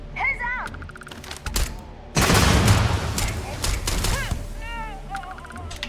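Hipfire from a gun in the space game Starfield: a loud, dense burst of rapid shots in the middle, with scattered sharper pops and other game sounds before and after.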